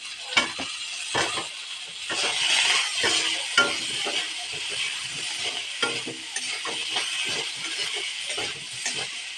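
Potatoes go into a frying pan with salt and turmeric and sizzle loudly while being stirred, repeated clinks and scrapes of a utensil against the pan over steady frying hiss, up close with no talking.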